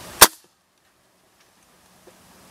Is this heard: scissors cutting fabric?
no